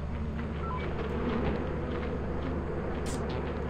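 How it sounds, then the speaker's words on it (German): Bees buzzing in a video game, a steady faint drone under a constant background hum, with a brief bright chirp near the end. "Wieso hast du die Bienen mit reingebracht?"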